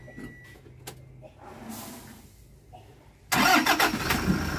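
A 2017 Toyota Hiace Commuter van starting up: quiet ambience with a few clicks, then the engine catches abruptly and settles into a loud, steady near running rumble.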